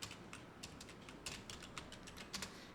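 Keys on a computer keyboard are tapped in quick, irregular clicks while a layer is renamed, soft and close, with no talking.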